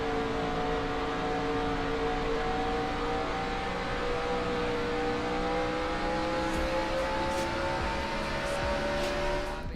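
A race car engine in NR2003 NASCAR at Phoenix holds a loud, steady high-pitched drone from an onboard view, the pitch rising slowly as it accelerates. A few faint clicks appear near the end.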